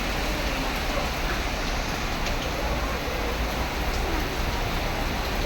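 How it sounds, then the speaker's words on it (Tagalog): Heavy rain pours down in a dense, steady hiss, unbroken and loud throughout with no voices. "Ang lakas ng ulan."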